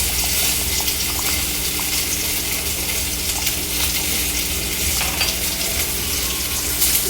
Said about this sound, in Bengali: ঘিটা দিয়ে ভালো করে নাড়াচাড়া করে